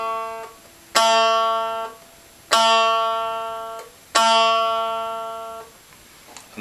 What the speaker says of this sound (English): There's your top A.